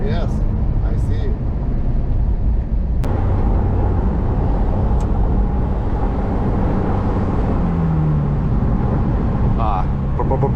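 A 2022 Ferrari Portofino with a turbocharged engine drives near Maranello by the Fiorano circuit, giving a loud, continuous low engine drone and road roar heard from inside the car, steady throughout with a few faint clicks.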